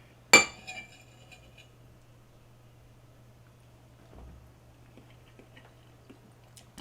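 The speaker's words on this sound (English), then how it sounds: "I'm running out of eggs to cut with my spoon." A metal spoon cuts through eggs on a plate, giving one sharp clink up close, then a few faint taps and scrapes over near silence.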